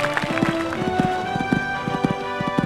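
Repeated galloping hoofbeats pound in a steady, driving rhythm as a horse approaches and clears jumps at an amateur horse trials event in Sydney, close and distinct over faint background noise.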